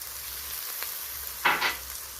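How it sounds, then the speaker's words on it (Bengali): Ginger paste hits hot oil in a pan, a soft background sizzle with a brief, sharper double crackle near the end, fairly quiet and close. "আদা বাটাটা দিয়ে দিলাম।"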